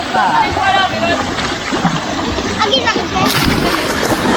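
Two children splash while bathing in a swimming pool, continuous sloshing and splatter close by, with people talking over the water noise.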